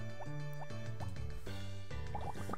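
Watering crops with a watering can in the Harvest Moon farming video game: a short run of bright, tonal game sound effects with bubbly drips and rising plops over a steady synthesized music bed, loud and alone.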